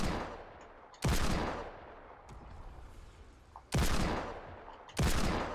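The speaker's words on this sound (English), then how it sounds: "I hit him with two legendary Desert Eagle shots" Desert Eagle hand cannon firing in a video game: three heavy, booming shots, one alone and then two close together near the end, loud against quiet in-game ambience with no talking.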